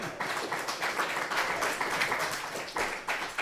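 An audience at a book presentation in a bookshop breaks into applause, a dense patter of many hands clapping steadily for a few seconds, fairly close.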